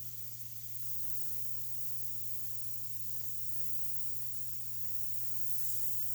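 A Gaahleri Mobius 0.2 airbrush spraying a fine line in a continuous steady airy hiss, soft and unbroken over a low background hum.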